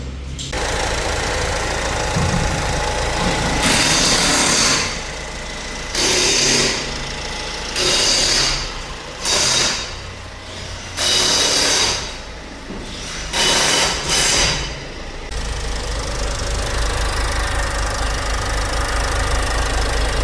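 A motorcycle engine runs steadily up close, with several bursts of revving rising and falling over a rough, continuous low rumble.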